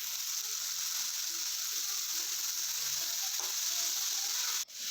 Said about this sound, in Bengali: এখন দুধ কচুর ডোকাটাও আমি ভেজে নেব।